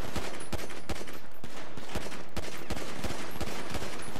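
Pistol fire in a GTA Online pistol-only deathmatch, a rapid series of sharp, evenly spaced gunshots cracking loudly over a dense, busy game soundscape.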